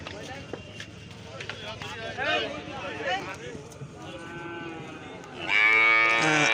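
Cattle at a village livestock market in Bengal, with a cow lowing in a long, loud moo near the end, over a crowd's steady chatter and voices talking throughout.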